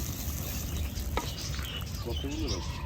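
Mustard hilsa fish cooks in oil in a pan, giving a steady, close sizzle and frying crackle with occasional stirring scrapes.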